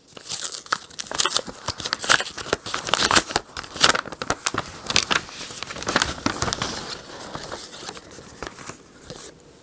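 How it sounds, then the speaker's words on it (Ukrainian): A paper envelope torn open and handled, with bursts of crinkling, ripping and rustling paper that come in irregular clusters close by, then taper off toward the end. "Давайте відразу відкриємо цей конверт."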